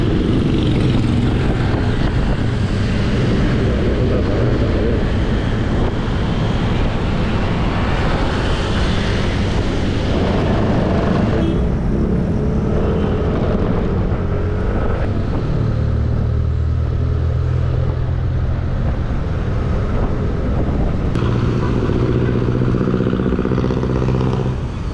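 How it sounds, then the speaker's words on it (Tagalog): A Yamaha Nmax motor scooter being ridden, with a constant loud engine drone mixed with heavy wind rush throughout. "Kaya mag-bike na lang tayo."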